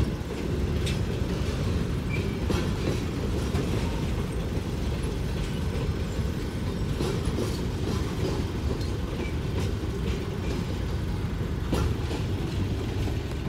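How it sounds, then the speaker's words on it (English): Long freight train of 44 cars pulled by three WAMX locomotives, a steady heavy rumble of rolling wagons with scattered clanks and squeals, loud and continuous throughout. "This train's a behemoth."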